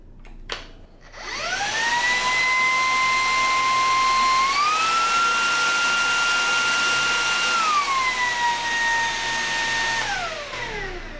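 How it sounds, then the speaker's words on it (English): A Prolux RS7 Pro stick vacuum cleaner starts with a click, spins up to a loud, steady whine, steps up in pitch partway through, then drops back down, running alone with no talk. "once you turn the vacuum on, it's automatically going to be on the medium suction mode"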